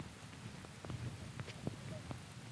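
Steady, faint rain falls outdoors at an archaeological excavation site, a soft continuous patter with scattered sharper drops and taps throughout.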